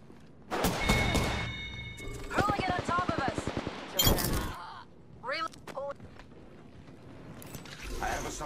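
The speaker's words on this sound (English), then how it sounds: "Bad boys are shooting at me." Close bursts of automatic gunfire in Apex Legends, rattling volleys separated by pauses, with in-game voice lines talking between and over the shots.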